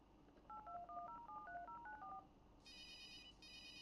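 A public payphone in the point-and-click adventure game Runaway: A Road Adventure gives a quick run of about a dozen clear touch-tone dialing beeps, then a pair of longer electronic ringback-style tones, all faint and with no speech.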